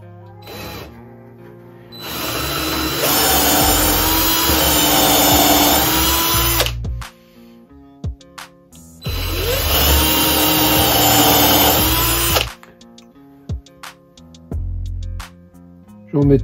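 Power drill driving long screws to fix a bench vise to the board beneath it, two sustained whirring runs of about four seconds each, loud and close, separated by quiet pauses with small knocks and handling clatter.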